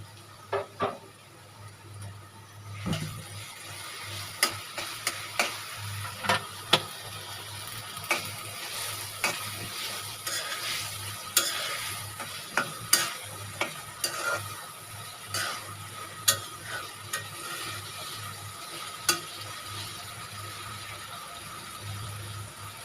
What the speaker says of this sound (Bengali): এখন চিংড়ি মাছগুলো মশলার সঙ্গে মিশিয়ে ভালোভাবে এটা কষিয়ে নিতে হবে